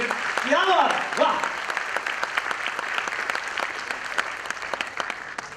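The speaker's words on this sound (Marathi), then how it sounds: "एकदा जोरदार टाळ्या व्हायला पाहिजे." Applause from an audience at a stage event, clapping that swells early alongside a voice, then carries on as scattered sharp claps with talk over it.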